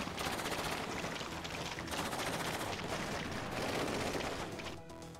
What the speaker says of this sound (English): The sniper's still taking shots at me